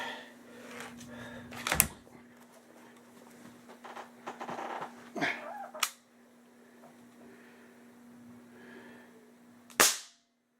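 A .177 airgun fires a pellet in a few sharp, close cracks, the loudest near the start and end, over a steady low hum in an otherwise quiet room.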